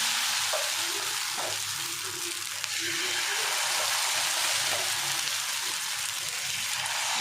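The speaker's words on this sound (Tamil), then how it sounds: "கல் காஞ்சிருச்சு. தோசை ஊற்ற ஆரம்பிக்கலாம்." Millet dosa batter hisses and sizzles steadily on a hot griddle, a dense, even crackle that fills the whole stretch with faint spatters.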